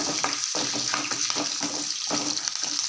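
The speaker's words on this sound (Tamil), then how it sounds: "இப்போ எடுத்து வச்சுருக்க பச்சை மிளகாய் கருவேப்பிலையை இதில் போட்டுக்கலாம் பச்சை மிளகா எண்ணெயில் போடுறப்ப பார்த்து போடுங்க" Green chillies and curry leaves crackle and spit in hot oil, a steady loud sizzle broken by sharp pops roughly every half second, close and alone with no talk.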